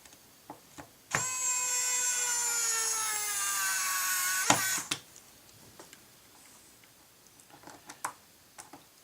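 An electric screwdriver whines steadily for about three seconds while driving servo mounting screws, ending in a sharp click, followed by faint scattered taps and handling clicks nearby.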